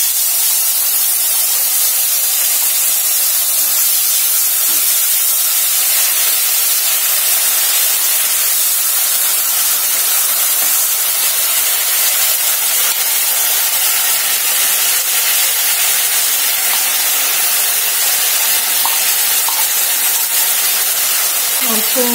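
Onion paste sizzling loudly in hot oil tempered with black cumin, a steady dense hiss with occasional small pops, continuing unbroken throughout.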